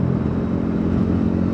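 A Bajaj NS400Z motorcycle engine drones steadily at high revs in fourth gear, a constant loud buzzing hum that holds without pause, heard close from the rider's position.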